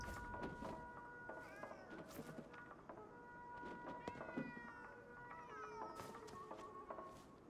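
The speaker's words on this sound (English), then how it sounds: "I can finally pet the cat." A cat being petted in the video game Ghostwire: Tokyo meows repeatedly in short, bright calls, with some drawn-out purring cries, close and clear over soft background ambience.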